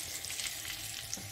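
Steady crackling sizzle of whole spices frying in butter, a continuous hiss with small pops, close and fairly quiet.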